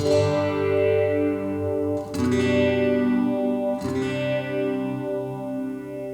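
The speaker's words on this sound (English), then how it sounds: "Got like a phasery, flangery thing going on." Sustained distorted chords from a Donner Hush I Pro travel guitar ring out with a swirling, sweeping phaser-flanger modulation, struck again twice, each new strum cutting through the lingering drone.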